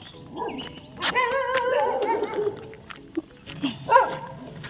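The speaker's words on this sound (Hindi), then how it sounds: "खाओगे भी मेरे पास और मुझे भौंकोगे भी" Street dogs bark and yip close by, a burst of sharp barks followed by scattered whimpering yelps, loud and irregular over a few seconds.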